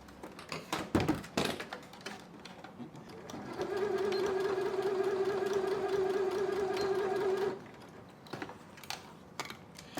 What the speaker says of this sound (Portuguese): A primeira coisa que a gente vai fazer para facilitar a nossa costura é ir na máquina e dar um retrocesso em cada lugar que tem os piques.